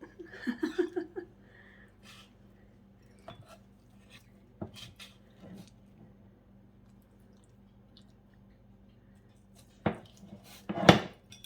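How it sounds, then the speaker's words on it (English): A serving utensil scoops hot peach slab pie from a baking pan, giving sparse scrapes, soft squishes and clinks against the pan, with louder scraping clatter near the end and brief talk at the start. "So we're just gonna scoop some of this up"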